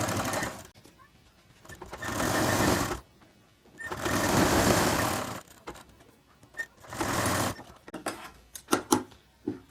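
A sewing machine stitches a baby shirt in three separate whirring bursts of a couple of seconds each, separated by quieter gaps, with a voice speaking at times and small handling clicks near the end.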